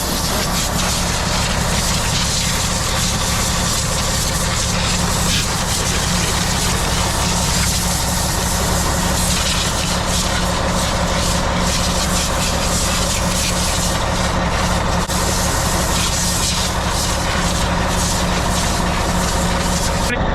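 A bulldozer engine idles steadily on a coal pile, a continuous loud low rumble with a constant harmonic drone that runs unbroken and close throughout, with no talk over it.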